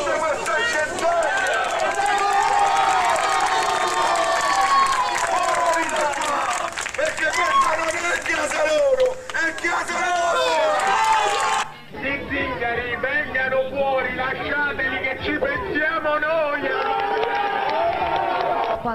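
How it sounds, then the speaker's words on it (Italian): A protest crowd outside a building housing Roma families shouts and yells continuously, a dense loud wall of overlapping voices with clapping mixed in, and the sound briefly dips partway through. "Quando alcuni ragazzini rom si affacciano alle finestre, partono le urla."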